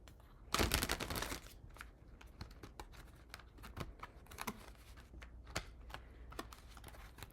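Tarot cards shuffled by hand, a dense loud riffle near the start and then scattered soft taps and slides as the cards settle, close and with no talking.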